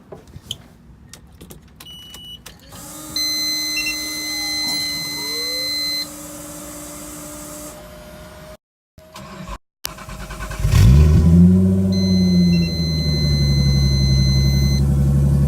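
Beeps and a dashboard chime sound, then a Nissan 240SX with an RB25DET engine cranks and catches, rising into a loud, rumbling idle close by.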